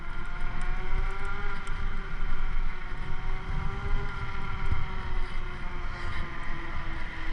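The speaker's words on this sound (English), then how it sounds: "Forgive the sound you're hearing. Those are my tires, because I have the off-road tires on." Off-road tires on an electric scooter hum steadily on a suburban street in North Attleboro. The droning tire whine is continuous and close, mixed with rushing wind noise.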